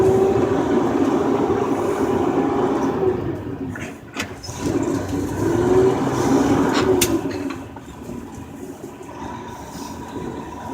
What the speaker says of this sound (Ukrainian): включив передачу і рушив поїзд далеку дорогу